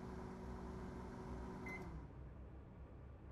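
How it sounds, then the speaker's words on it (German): A microwave oven hums steadily in The Nightfall horror video game, a close, even drone with a brief beep near the end before the hum cuts to quiet room tone. "Ich demonstriere euch jetzt, was passiert, wenn ihr euer Meerschweinchen in die Mikrowelle legt."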